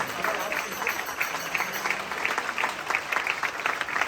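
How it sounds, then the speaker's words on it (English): A crowd at an Ayyappa Samaj irumudi puja claps for the temple priests in a short, uneven burst of hand claps, fairly close and lively, with voices mixed in. "another huge round of applause to all of our wonderful priests"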